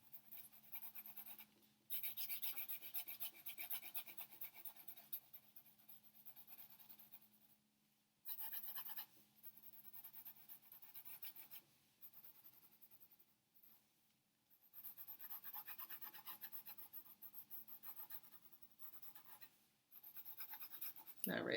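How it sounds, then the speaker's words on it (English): Mechanical pencil graphite shading across paper, a soft steady scratchy rasp of repeated strokes that stop and resume in long bursts, close and quiet. "I'm using mechanical so I don't have to sharpen it all day."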